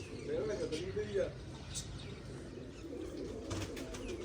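A homing pigeon coos while arriving at the loft, a soft bubbling call up close in the first second, then quieter ambient murmur with a man calling out to it.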